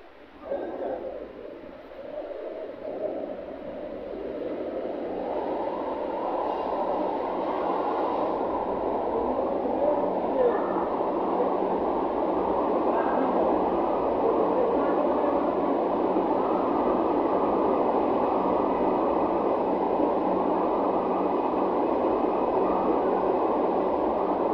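A Kolkata Orange Line metro train pulls into a station with a broad, rising rumble and hiss that swells after a quieter start, then holds as a loud, steady roar with no talk heard.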